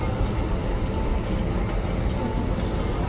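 Steady, dense rumble of rolling stock at Kalka station, where the toy train runs, heard as a continuous noisy drone with no clear pauses or distinct clacks.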